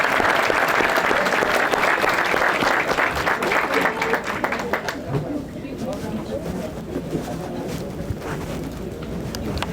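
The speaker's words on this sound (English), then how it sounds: "Give her another round of applause." Audience applause after a speech at Chester City's inaugural People's Ball, a dense sustained clapping from a large crowd that stays loud before thinning slightly toward the end.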